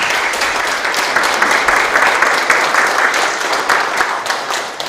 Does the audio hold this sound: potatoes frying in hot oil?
no